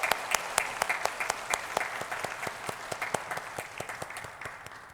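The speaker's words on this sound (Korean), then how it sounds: "하나님께 영광의 박수 올려드리겠습니다" A church congregation applauds during a Sunday worship service, a dense wash of clapping with sharp individual claps standing out, steady and moderately loud before gradually thinning toward the end.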